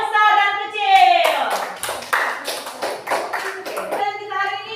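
A school class claps for a student group, a short burst of quick hand claps in the middle with a voice speaking before and after.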